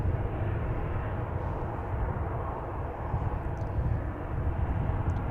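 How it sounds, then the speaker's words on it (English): A 28-year-old Swiss Airbus A320-200 airliner taxiing toward the runway at Manchester Airport, a steady, loud broadband engine roar with a deep low rumble that holds level throughout. "We've got this Swiss Airbus A320-200 that's going to Zurich."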